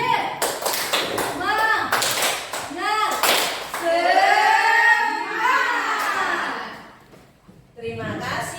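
A group leads a 'tepuk semangat' rhythmic spirit clap at a school positive-culture gathering: bursts of sharp, close claps in a patterned rhythm, mixed with loud chanting voices, then a brief lull before clapping resumes.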